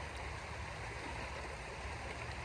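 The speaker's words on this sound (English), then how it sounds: "the top of the stream, the water is much faster than what's right on the bottom" A rocky stream with deep pools runs steadily over stones, a dense continuous rush and gurgle of water at close range with no voices, holding an even level throughout.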